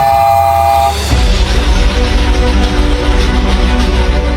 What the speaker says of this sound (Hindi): इसको 4 चाइन विसल बोलते हैं